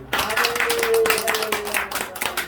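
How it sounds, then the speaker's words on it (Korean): A church congregation claps together in a short burst, close and lively, with a faint tone held underneath. "오늘 우리 하나님께 영광의 박수 한번 드리겠습니다."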